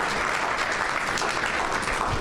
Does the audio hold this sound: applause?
yes